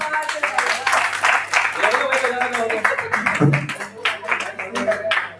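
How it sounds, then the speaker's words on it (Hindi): Audience applause rings out at a Hindi-Urdu poetry gathering, a dense wash of clapping that carries steadily for several seconds at moderate volume, with voices mixed into the crowd noise. "तो सभी के लिए एक बार जोरदार तालियां"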